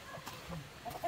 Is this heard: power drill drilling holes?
no